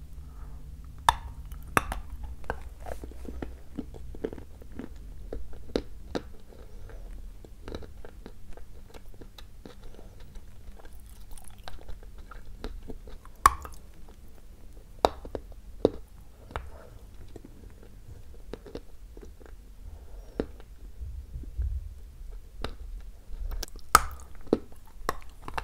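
Close, quiet bites and chewing of a firm, dense Lesnaya Belaya apple, with scattered sharp crunches and soft wet chomps in an irregular rhythm over about twenty-five seconds, no voices.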